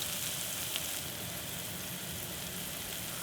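Chopped garlic, onion and green onion stir-frying in vegetable oil for seafood kimchi fried rice give a steady, dense sizzle that holds evenly throughout, with no talking.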